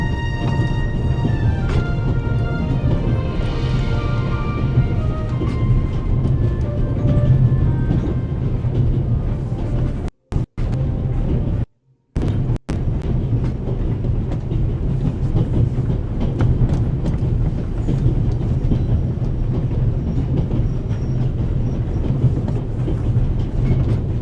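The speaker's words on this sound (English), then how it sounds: "The noise on this train is driving me crazy." Steady rumble of a moving train in the video game The Raven, with continuous rhythmic clatter of wheels over rails and a rattling carriage, loud and constant throughout, broken by two brief dropouts near the middle.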